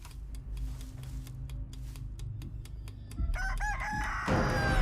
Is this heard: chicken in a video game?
yes